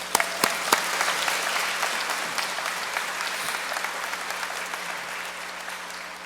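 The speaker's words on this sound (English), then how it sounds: "They deserve a round of applause for that." Steady applause from a graduation crowd honoring automotive academy students, dense and sustained with a few sharp claps up front, filling the room throughout without talk.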